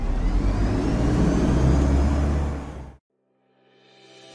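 A school bus in a Greek animated short pulls in with a loud rumbling engine that fades and stops abruptly, followed by a brief quiet before a lighter motor sound rises again.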